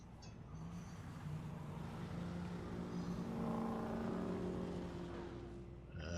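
LMP2 prototype race car engine in a Le Mans 24-hour racing video game, a steady loud drone with rising engine tones, other cars faintly around, no talk.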